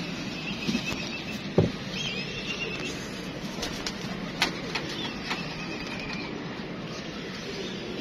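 Pigeons, among them a tanga pigeon, flutter and stir softly in a quiet space. Faint scattered clicks and wing movements are heard, with a few sharper taps, and no voices.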